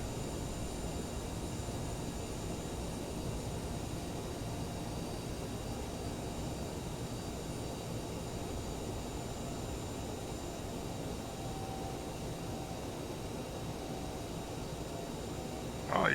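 CRJ900 regional jet engines in a flight simulator, a steady, fairly quiet broadband engine hum and hiss that holds level throughout with no audible rise or fall, and a brief louder burst at the very end.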